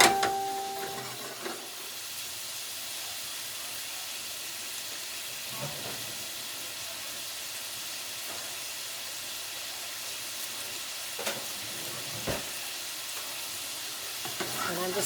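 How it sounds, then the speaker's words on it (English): Food sautéing with salt and pepper in a pan gives off a continuous, even sizzle from start to finish, close and steady, with a few faint clicks of utensils and no voices. "Add some salt, some pepper, I'm just going to let that saute a little bit."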